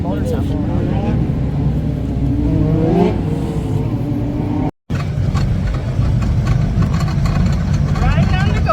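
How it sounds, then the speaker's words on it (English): A golf cart motor runs continuously and close, a loud steady engine drone with some rising and falling pitch, briefly cutting out for a moment before resuming, with a voice speaking over it. "Riding on the golf cart."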